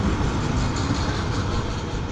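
Modern tram passing on a Prague street, a loud, steady rolling rumble with rail noise throughout, close by and without talk.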